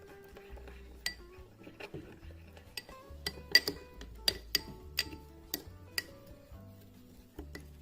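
A spoon clinks against a bowl while crushed stock cube is stirred into vegetable oil for beef suya seasoning, with a series of sharp, close metallic taps and scrapes in an uneven rhythm, no talking.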